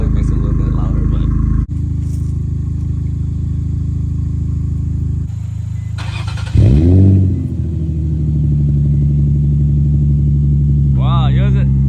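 A 2021 Honda Civic Type R fitted with silencers drives along, its engine droning loud and close throughout, with a sharp rev that rises and falls midway before settling back to a steady hum.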